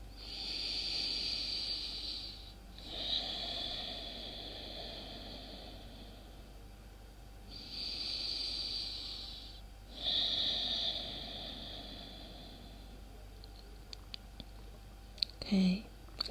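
Slow, deep breaths during a hip-opening yoga pose, each a long airy inhale or exhale close to the microphone, repeating in an even rhythm with quiet pauses between, followed by a few faint clicks at the end.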